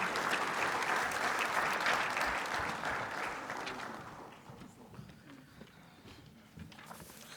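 An audience at a youth forum opening ceremony applauds a speaker being welcomed to the stage, a dense sustained round of clapping that gradually fades and thins out toward the end.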